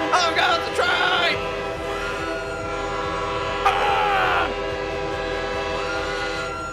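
A train set inside a haunted maze rumbles along with clattering mechanical noise and repeated loud horn blasts, steady throughout and fairly close.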